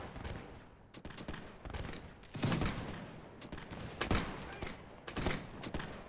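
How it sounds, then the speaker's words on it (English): Musket volleys in the Napoleonic-era Mount&Blade game, with scattered sharp cracks and overlapping shots at varying distances, some distant pops and a few louder nearby bangs in a continuous battle din. "He's shooting from there."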